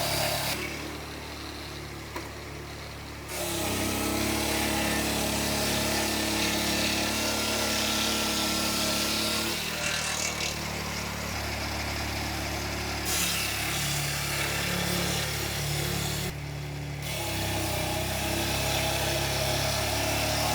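A loud, steady saw engine roars as a circular chainsaw mill cuts through a log, with brief dips in pitch and intensity along the way.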